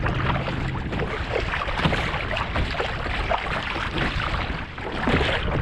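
A kayak being paddled out on fairly calm sea at Plimmerton on a fishing trip: a continuous broadband rush of water and wind with soft rhythmic splashes, close and steady, with no talking.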